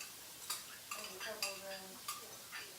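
Metal utensil scraping and clinking in a pan as seasoned meat is stirred and mixed, several sharp clanks spaced irregularly over soft sizzling, with a voice speaking faintly in between.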